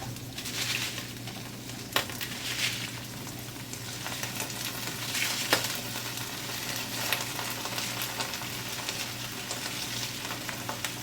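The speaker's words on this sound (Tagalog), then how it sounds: "So, ilalagay na natin yung repolyo." Cabbage stir-fries in hot oil, giving a steady close sizzle and crackle with occasional clacks of a utensil against the pan, and no talking.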